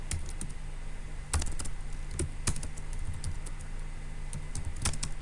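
Steady typing on a computer keyboard while entering text into a spreadsheet, close clicks with several sharper spacebar-like taps spread through.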